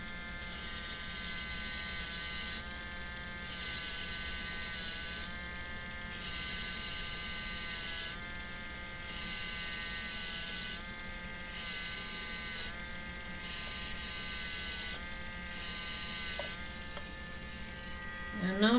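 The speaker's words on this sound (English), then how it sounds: "It's a pedicure wand." A steady buzz from an electric pedicure wand sanding the bevel of a clay inlay pendant, running close and continuously with a regular pulsing rhythm, under quiet talk.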